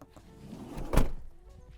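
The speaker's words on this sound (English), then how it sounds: "I don't slam it or anything, I just kind of, the door still shuts properly." A Mercedes Sprinter van's sliding door, fitted with a bug screen, shuts with a single soft, close thunk after faint handling noise, then quiet.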